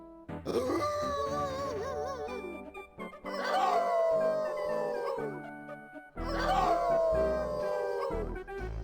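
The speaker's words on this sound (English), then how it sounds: "Hey, everyone, how about a good group howl?" Dogs in the 1994 PC game Inherit the Earth: Quest for the Orb join in a group howl, three long wavering howls, each a mournful sustained wail with overlapping voices, separated by brief pauses.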